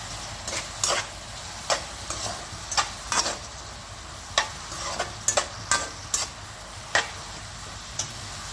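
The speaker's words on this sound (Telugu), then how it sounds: "ఉల్లిపాయ అయితే వేసుకుంటున్నానండి మగ్గుతున్నావు కదా మగ్గుకోవాలి" Onions sautéing in a pan with curry leaves for biryani, a steady soft sizzle broken by sharp, irregular scraping taps of a stirring spoon, close and without talk.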